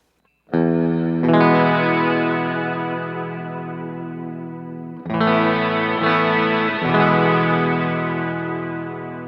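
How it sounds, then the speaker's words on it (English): Sustained electric guitar chords through a Line 6 HX Effects overly modulated hall reverb, ringing out with lush wobble and chorus-like shimmer; two strummed passages, the second entering about halfway, tails decaying slowly. "I kind of think of this as like a hall reverb, but a little overly modulated"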